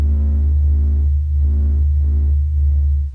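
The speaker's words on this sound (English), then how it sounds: "This is the sound of the sun singing." The sun's oscillating pressure waves, sped up to audible pitch, form a loud, steady, deep droning hum with a slow throbbing pulse about once a second, heard alone.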